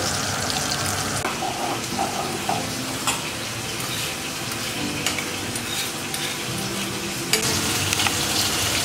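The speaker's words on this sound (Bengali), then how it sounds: "এই যে মাছগুলো এইভাবে ভাজা হচ্ছে" Fish pieces, including heads, fry in a kitchen pan with a loud, dense crackle and sizzle up close, joined by occasional stirring and scraping clatter, with no one talking.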